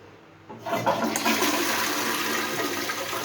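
A wash-down toilet flushes with a sudden rush of water after a short quiet start, then keeps up a loud, steady gushing and swirling close by.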